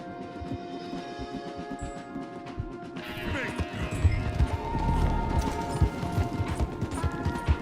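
Horses gallop in Red Dead Redemption 2 with rapid, rhythmic hoofbeats, a neigh rising over the pounding, while voices call out over the ride.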